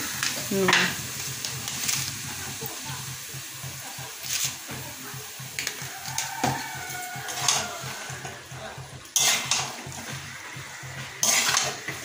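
Chicken pieces frying in a reddish, well-cooked spiced masala in a home kitchen pan, with a steady sizzle under repeated scraping stirs and occasional clatter of the utensil against the pan, with no talking.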